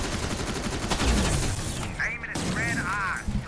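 Rapid gunfire from weak guns in the video game Terminator Resistance crackles in a dense, loud burst for about two seconds, then gives way to talking with a few scattered mechanical clanks.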